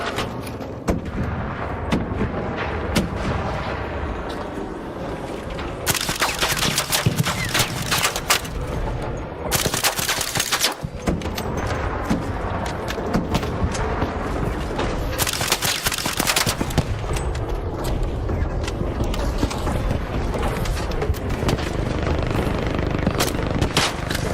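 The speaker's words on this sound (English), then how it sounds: "You got missiles coming on you, bro." Missiles streak in during an ARC Raiders match, a dense, sustained barrage of booms and rapid blasts with several louder bursts of impacts, loud and continuous throughout.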